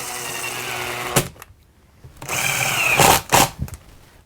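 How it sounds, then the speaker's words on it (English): A power drill driving screws to attach a faceplate to a wooden bowl blank, with two close bursts of whirring, a pause between, then a longer run ending in short stuttering pulses. "and then I'll just screw it in."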